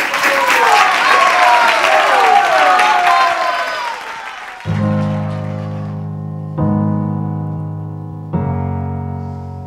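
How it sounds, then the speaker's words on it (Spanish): Studio audience applause on a Spanish-language TV variety show, loud and sustained with cheering for about five seconds, then fading as music with steady bass begins. "Un aplauso"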